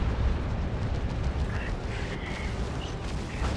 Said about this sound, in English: That's a fire prism getting shots.